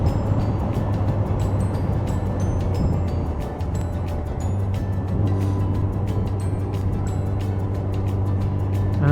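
A Kawasaki ZZR 1400 (ZX-14R) motorcycle engine runs in a steady, smooth drone on a ride through the Cotswolds, a continuous low hum with faint wind and road noise and no voices.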